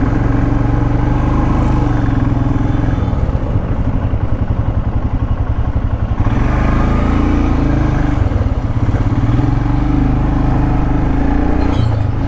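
A motorcycle cruises along a highway heading out from Varanasi toward Bihar, its mid-pitched engine droning loud and steady throughout with rumbling road and wind noise, no voices.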